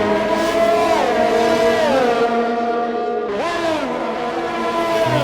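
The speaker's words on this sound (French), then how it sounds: "Devant eux, c'est la Ferrari de Winboy." Ferrari race car engine in a racing video game set at Monaco: a loud, continuous high-pitched engine whine dropping through gear changes, then rising sharply again before easing off.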